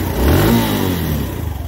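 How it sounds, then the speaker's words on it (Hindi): A Suzuki GD110s motorcycle from 2022 fitted with a remote start kit fires up and settles into a loud, steady, close engine drone with a slight rev at the start. "इसको अगर आप 2 टाइम प्रेस करेंगे तो बाइक स्टार्ट हो जाएगी"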